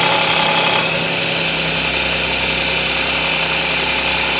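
An Audi S engine making an abnormal noise on a cold start, heard as a close, steady mechanical idle with continuous vibration and a faint rattle, with no talk.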